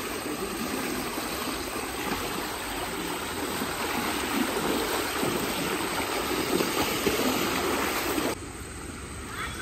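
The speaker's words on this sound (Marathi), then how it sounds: "पाणी बघू शकता मित्रांनो, एकदम डोंगरावरून स्वच्छ पाणी आलेलं आहे" Clear mountain stream water running down from the hills, a close, continuous rushing and gurgling flow that stays broad and steady throughout, cutting off abruptly near the end.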